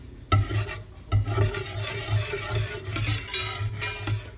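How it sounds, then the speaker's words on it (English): Whisk or spoon stirring three egg yolks in a bowl, a steady run of scraping, clinking strokes against the bowl's sides, close and moderately loud with no talking. "the 3 egg yolks, and then stir it"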